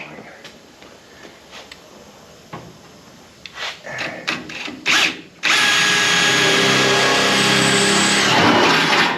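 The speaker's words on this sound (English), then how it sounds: "I'm going to just try to drill one right there from out here" A few clicks and short bursts give way to a power drill running loud and steady at close range, drilling a hole in a 1970 Nova's trunk.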